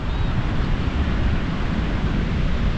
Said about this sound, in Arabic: وهاك شوية الهواء، وهاك شوية الهواء. شوفوا نعمة سيدي، شوفوا نعمة سيدي البحر.